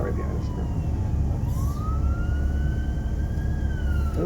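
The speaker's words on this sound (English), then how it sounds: "And the ambulance on the left just ruined my story." An ambulance siren on a city street in Victoria, British Columbia, wailing loudly with a slow rising and falling tone over heavy traffic rumble as the vehicle passes close by.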